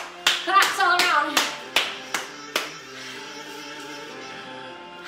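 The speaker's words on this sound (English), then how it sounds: "Claps all around." A workout class bursts into clapping, a few sharp near claps that quickly fade to a light patter and then stop.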